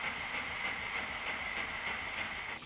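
A Stuart 1010V model steam engine running, played back at quarter speed, giving a steady hiss with slow, regular pulsing chuffs and a faint rhythmic mechanical knock.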